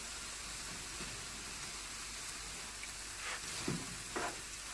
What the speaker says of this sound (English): I'm now trying to break my egg into small pieces because I will soon add my rice.